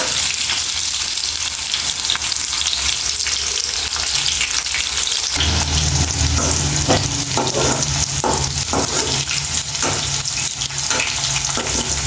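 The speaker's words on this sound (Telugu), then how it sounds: "ఇట్లా మంచిగా ఫ్రై అవ్వాలండి కొంచెం ఎర్రగా అయ్యాక ఫ్రై చేసుకోవాలండి గోల్డెన్ కలర్ వచ్చేదాకా ఫ్రై చేసుకోవాలి" Bitter gourd (kakarakaya) pieces frying in oil until golden give a steady, loud sizzle, which grows denser midway, with occasional stirring clinks over the bubbling.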